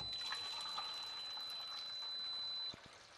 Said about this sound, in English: I'm pouring it, and then I'm going to rinse the developer off with water that is at the temperature of the developer